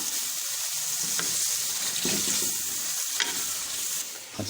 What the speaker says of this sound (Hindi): अब हमें इनकी अच्छी सी भुनाई कर लेनी है।